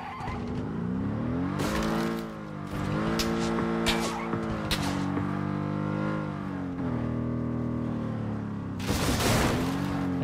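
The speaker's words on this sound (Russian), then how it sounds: "Понятно, это был звук от моей машины." A car engine in PUBG: Battlegrounds drones and shifts pitch as it drives, with brief sharp bursts and hiss layered on top, continuous and fairly loud.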